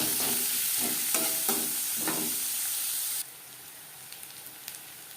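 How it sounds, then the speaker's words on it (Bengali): Chopped onions frying in oil in a pan, a loud, steady sizzle and hiss with a few sharp stirring scrapes that drops abruptly to a quieter crackle partway through. "পেঁয়াজ লালচে করে ভেজে নেব।"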